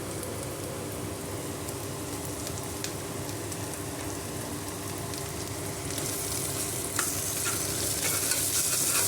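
Ginger garlic paste for a mutton curry sizzles and fries in hot oil, a steady close crackle that grows brighter and louder toward the end as stirring continues.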